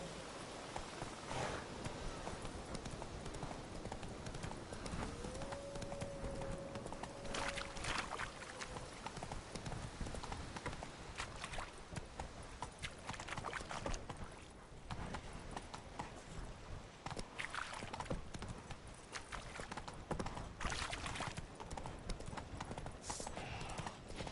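Horse hooves clip-clop steadily at a walking pace in a video game, a continuous rhythmic clopping over a busy game soundscape with an occasional faint whinny-like tone.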